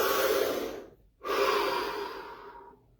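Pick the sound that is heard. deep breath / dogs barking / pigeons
deep breath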